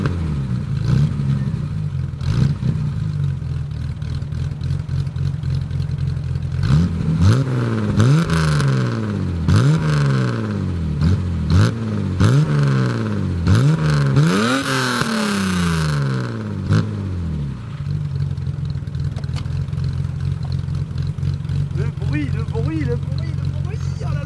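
A BMW Alpina car engine starts, then revs repeatedly in rising and falling sweeps before settling back to a steady idle. It is loud and close, with voices talking over it.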